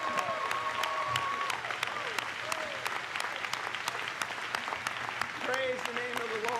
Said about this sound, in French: Acclamons plus fort pour le Seigneur cet après-midi.